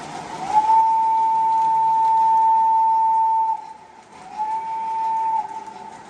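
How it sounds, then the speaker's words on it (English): A model train whistle gives a long steady toot, pauses briefly, then sounds a second shorter toot, clear and close. "let's give a little toot on the whistle for some different trains here"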